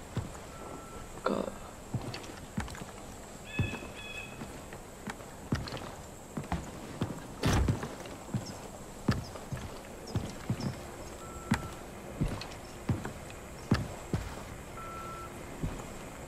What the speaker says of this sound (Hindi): तो ये शायद घोड़ा होगा